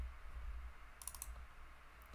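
A computer mouse clicks quickly several times in a row while building a map in Tableau software. The crisp, faint clicks sit over a quiet background hum.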